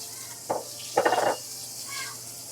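Sausage going into olive oil in a skillet, with a couple of short clattering pan bursts followed by a brief hiss and sizzle, close and fairly loud.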